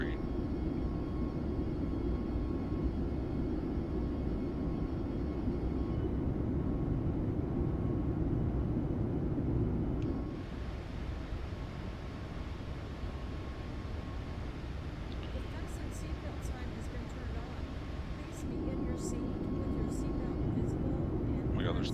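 Boeing 737 MAX 8 cabin ambience in Microsoft Flight Simulator 2024: a steady, loud low engine and airflow drone that drops and thins in the middle before swelling back, with faint clicks and a talking voice over it.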